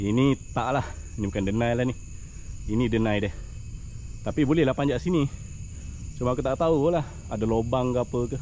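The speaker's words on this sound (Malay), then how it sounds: "Kalau kita dengar bunyi riang-riang, maknanya lagi kuat, sebenarnya lagi bagus" Cicadas buzz in a jungle forest as a steady high-pitched drone running continuously beneath someone speaking nearby on a trail.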